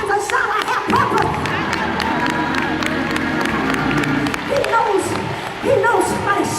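Church congregation clapping hands during a lively preaching service, steady crowd clapping mixed with shouting voices and music throughout.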